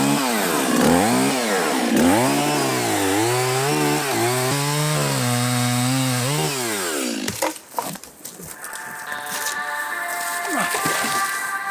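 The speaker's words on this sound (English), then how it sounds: "I'm so glad that I brought the chainsaw, and let's light this up and get some stuff cut." A chainsaw cutting fallen trees revs loudly for several seconds, rising and falling in pitch, then cuts out into rough crackling and rustling.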